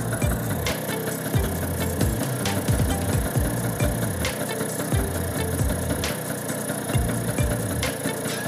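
A Vespa PS 150 scooter engine idles after a carburetor cleaning and adjustment, a steady close-up mechanical chug with regular low pulsing and faint rattling vibration throughout; no speech.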